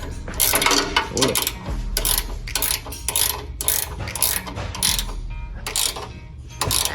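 Fog light mounting bolts being tightened on a stock front bumper of a Ford Bronco, a rapid ratchet wrench clicking in quick repeated bursts with short pauses, close and loud, with no speech.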